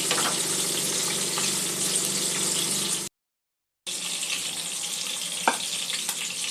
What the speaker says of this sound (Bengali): মাছটা একটু ভালো করে ভেজে নেওয়া পর্যন্ত একটু অপেক্ষা করব।